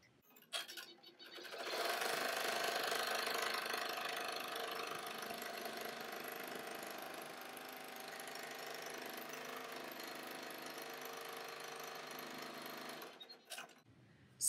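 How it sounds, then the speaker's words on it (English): Sewing machine stitching down a fabric face mask, a steady close whirring run of rapid stitches lasting about eleven seconds after a brief start, then stopping. "And now we'll stitch it down."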